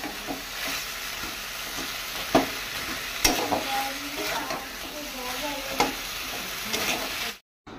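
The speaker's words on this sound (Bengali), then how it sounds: "কষাচ্ছি ডাল" Lentil dal being stir-fried in a pan with cumin paste, a continuous sizzle broken by scraping stirs and occasional spoon knocks against the pan, up close and fairly loud.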